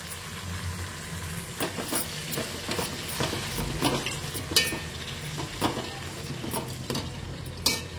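Tomatoes, beans and fresh ginger paste being stirred in a frying pan: a spoon scrapes and knocks against the pan in repeated, uneven strokes over a steady low sizzle, close and moderately loud.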